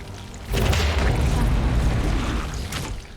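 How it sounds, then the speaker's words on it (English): A loud, sustained tentacle explosion spell effect from Skyrim roars and rumbles for a few seconds, with crackling bursts on top, standing alone without talking. "That explosion that's coming off of me, the tentacle explosion, that is actually from her robes."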